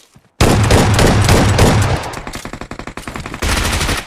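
Rapid automatic gunfire from a battle royale video game, loud and close, with dense bursts for a few seconds giving way to separate sharp shots, then another sustained burst near the end.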